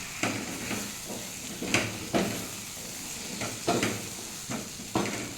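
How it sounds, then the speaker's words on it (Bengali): Chana masala with ground spice paste is stirred and fried in a pan, giving a soft steady sizzle broken by repeated scraping stirs at an uneven rhythm, close and fairly quiet. "কিছুক্ষণ নেড়ে এবার চানাটা দিয়ে দেবো।"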